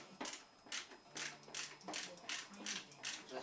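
Small metal clicks and ratcheting ticks from a screwdriver tightening a bolt on a Ruger Blackhawk revolver during disassembly, about six evenly spaced bursts, close and quiet, with no talk.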